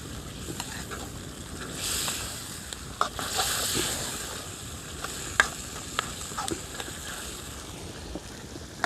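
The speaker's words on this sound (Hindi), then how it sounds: "इसके बाद हम बच्चों के लिए झींगे फ्राई करेंगे।" Prawns sizzling in an outdoor karahi, a steady broadband hiss with occasional sharp crackles and the scrape of a spoon stirring, moderately quiet with no talking.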